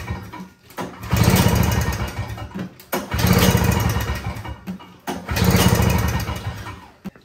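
A Toro Snow Commander snowblower's small engine, partially choked, cranks and catches in three loud, close bursts of sputtering engine noise, each a couple of seconds long and separated by short pauses.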